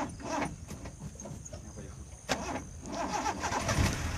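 An old Colt T120 that struggles to start gets cranked, its engine turning over with a labored, rough churning rising toward the end, up close amid some background noise and a voice.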